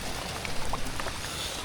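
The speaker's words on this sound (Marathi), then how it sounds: "पाऊस पडला" Heavy rain pours steadily in a national park near an old temple, a dense, even hiss with scattered drop patters throughout, close and moderately loud, with no voices.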